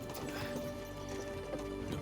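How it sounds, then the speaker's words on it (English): Horses in the medieval video game Kingdom Come Deliverance 2, a steady clip-clop of hooves at a slow walking pace over a continuous low rumble of travel, with a faint held tone running underneath. "don't you think maybe we could make the horses go a little faster?"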